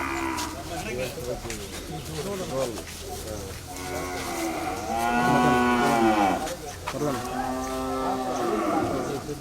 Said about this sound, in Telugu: ఎద్దులు ఉన్నాయి